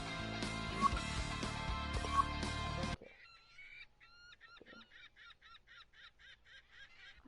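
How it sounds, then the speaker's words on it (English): Cartoonish duck quacks from a console golf video game, a rapid run of short nasal honking calls in an even rhythm, following a few seconds of loud game music that cuts off abruptly. "I need to get some more realistic duck sounds"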